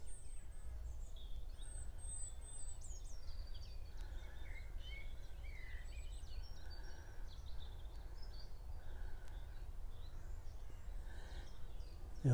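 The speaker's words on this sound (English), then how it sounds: "The old blackbird's singing a bit now." Faint, distant blackbird song of varied fluting phrases drifts over a low outdoor rumble, quiet and intermittent.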